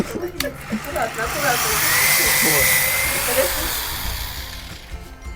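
A power drill whirs for a few seconds while unscrewing a screw, its whine rising and then fading, while people talk quietly nearby.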